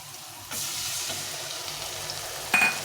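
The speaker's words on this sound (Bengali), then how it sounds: "এটা আমি জলে গুলে দিলাম নিয়ে এখন আমি এখানে ঢেলে দিই" Spice mixed in water poured into a hot frying pan for a cabbage ghonto, a soft steady sizzle that jumps as the liquid hits, then a brief clatter near the end.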